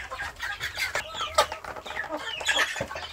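A flock of one rooster and about ten hens clucks continuously, close and busy, with overlapping short calls against a noisy outdoor background.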